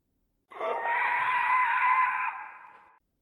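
A single drawn-out scream in a sci-fi audio drama, echoing along tunnel arteries toward a launch base; loud and sustained for about two and a half seconds, rising abruptly and then fading out, with no talk over it.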